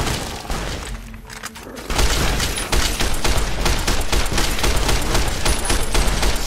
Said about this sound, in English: Service rifle.